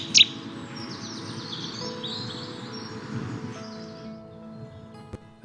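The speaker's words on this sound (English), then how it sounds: "Early April is just right time before the leaves come out to try and spot the Chettis warbler." Cetti's warbler song in early spring woodland before leaf-out: a sharp, loud burst at the start over a steady bed of other birdsong and chirping, with a faint background hum throughout.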